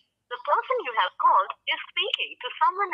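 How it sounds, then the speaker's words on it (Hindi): An automated recorded message plays over a telephone line while a call waits, a thin, narrowband voice speaking in short phrases close up with brief gaps of silence between them. "अभी फोन वेटिंग में जा रहा है"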